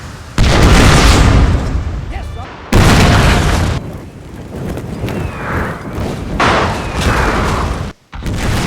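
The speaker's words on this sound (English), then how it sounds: "The British forces initiated the attack with a bombardment of the gorge." Artillery bombardment in a Total War battle recreating the 1906 fight at Mome Gorge, with loud booming blasts and a dense rumbling barrage that keeps going throughout, broken by a few sharp new impacts.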